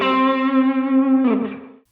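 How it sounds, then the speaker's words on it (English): An electric guitar picked just past the neck pickup gives a warm, creamy sustained note run through effects, ringing steadily, then a second strum that fades out. "move the pick just a bit beyond where the neck pickup sits and you'll get a creamier sound"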